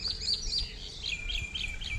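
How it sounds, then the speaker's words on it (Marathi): Small birds chirp and tweet by a river creek, with repeated short high calls in quick bursts over a low outdoor rumble, fairly close and clear with no talking. "पक्षी केवढे आहेत."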